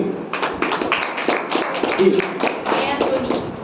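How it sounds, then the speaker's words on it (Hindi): An audience claps at a certificate presentation during the final round of a Voice of Bhinmal singing contest, a steady patter of hands lasting a few seconds with voices mixed in. "आप ताली बजाएंगे"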